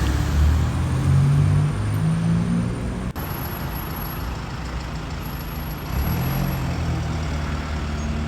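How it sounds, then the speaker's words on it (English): Enviro 200 bus in Ipswich town centre passing close by, a loud rumbling engine and road roar with a brief sharp click midway, then the drone fades slightly and steadies as it moves on. "Rear end of an Enviro 200"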